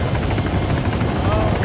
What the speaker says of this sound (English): helicopter's gonna just fucking spear into the fucking side of the hill